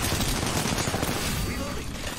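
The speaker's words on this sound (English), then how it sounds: "They're shooting at me" Enemy gunfire in the Apex Legends video game, sustained rapid shooting that stays loud and busy the whole time, with faint talk mixed in.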